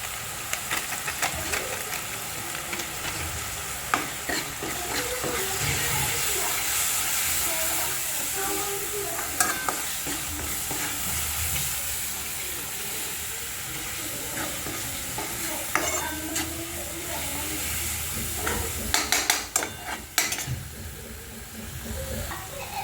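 Red chili powder and mutton masala stirred and frying in oil in a home kitchen pan for a Maharashtrian usal, a steady close sizzle with spoon scrapes and clinks throughout.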